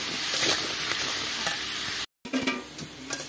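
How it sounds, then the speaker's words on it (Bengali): Potatoes fry in oil with salt and turmeric, a steady dense sizzle with scraping stirs, broken by a brief cut of silence before the loud frying resumes. "একটু ভালো করে ভাজা ভাজা করে নেবো"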